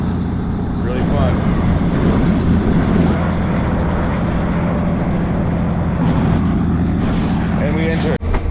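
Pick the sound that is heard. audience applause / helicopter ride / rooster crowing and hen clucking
helicopter ride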